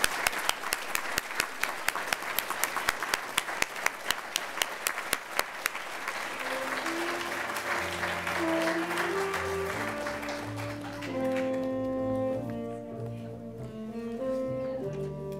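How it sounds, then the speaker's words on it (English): A graduation ceremony crowd gives graduates a final round of applause, opening with sharp, separate claps in a steady rhythm that swell into continuous clapping, then fade under a live jazz duo's music. "I'd like to give them again one last round of applause"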